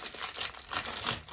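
A snack package from a care parcel being torn and crinkled open, a close, continuous rustling and ripping of plastic wrap with bright crackly bursts and no talking.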